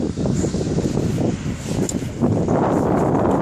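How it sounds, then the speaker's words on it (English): Wind blows across an open city square, buffeting the microphone in a steady, fairly loud low rumble with uneven gusts and no voices. "Now some wind, there is some wind."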